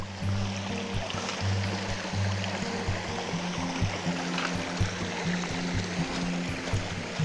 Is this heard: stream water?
yes